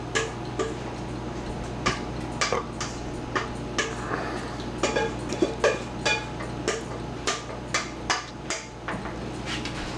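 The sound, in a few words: spaghetti and beef chunks being mixed in a big bowl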